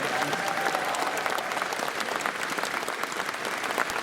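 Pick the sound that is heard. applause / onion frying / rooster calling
applause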